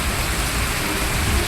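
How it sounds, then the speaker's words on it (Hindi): Torrential monsoon rain pours down in Santacruz, Mumbai, a dense, loud, continuous hiss with no pauses. "मूसलाधार बारिश ने सांता क्रूज का हाल बेहाल कर दिया है।"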